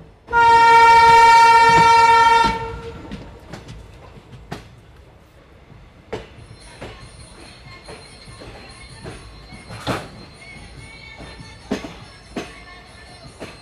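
A passenger train stands at Patharkandi station in Assam, opening with a long, loud horn blast, followed by scattered metallic clanks and knocks from the cars at moderate distance.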